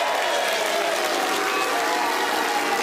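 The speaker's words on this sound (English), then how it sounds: "They get a cheer themselves whatever the score." A studio audience at a televised national quiz show cheers and applauds, a dense, loud wash of clapping and crowd noise that holds steady throughout.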